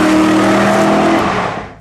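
A 1995 C4 Chevrolet Corvette ZR1 engine roars at steady high revs in one loud, sustained burst, then fades away near the end.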